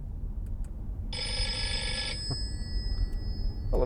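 An old-style telephone ring plays once from the infotainment system of a 2015 Audi RS4 Avant, lasting about a second. It sounds clear against a quiet cabin hum.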